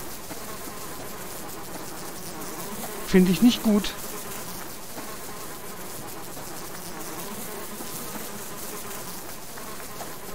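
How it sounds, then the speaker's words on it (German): Bees swarm around the player in the survival game Subsistence, a steady insect buzz running through the whole stretch with a brief louder burst near the start, and someone talks briefly over it. "Ich habe immer noch die Bienen am Hintern."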